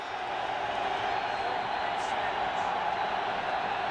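A sellout crowd at Milwaukee's County Stadium during a Packers versus Lions football game, late in the third quarter as the Lions face a fourth down: a steady, loud roar from the stands continues throughout.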